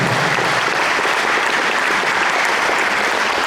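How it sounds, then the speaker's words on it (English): Sustained applause from a crowd at a touchdown club meeting, steady and loud throughout, with no talking over it. "give you a round of applause for Garrett Murphy from Lawrence Academy."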